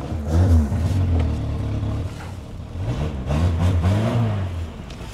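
Engine revving on a Peugeot 106 1.5D diesel car, two bursts of rising and falling revs close by, with a short lull between them.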